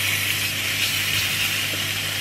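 Beef flank steaks sizzle in a hot frying pan, a steady, loud broadband hiss that holds evenly from start to finish without talk.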